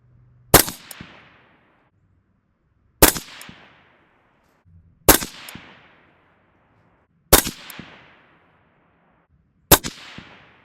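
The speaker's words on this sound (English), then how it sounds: "I'm going to fire 5 rounds at the upper right circle, and we'll see where they land." Five AR rifle shots fired one at a time at a target at a 200-yard range, each a loud, sharp crack with a short decaying tail, spaced about two seconds apart, with no talk.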